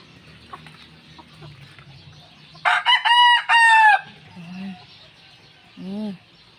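Fighting roosters crow loudly in a pair of long, close calls, followed by a few low clucks and another short crow, over faint background murmur.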